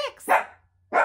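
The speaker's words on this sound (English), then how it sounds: "there's somebody walking by my house, and that's what he's barking at" A dog barks at someone walking past the house, giving two or three short, sharp barks close by with a brief pause between them.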